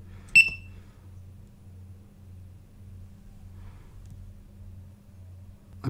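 A digital electronic clock kit's small speaker gives one short, piercing high beep near the start, then falls quiet over a steady low electrical hum.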